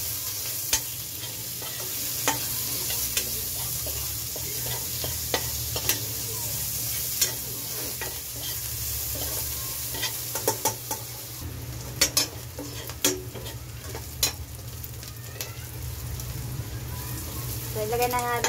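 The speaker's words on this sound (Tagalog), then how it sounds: "Ilagay na rin natin guys yung ating sibuyas." Onions sautéed in a pan for a squid dish, a steady close sizzle with a low hum beneath and sporadic sharp clinks and scrapes of a utensil on the pan.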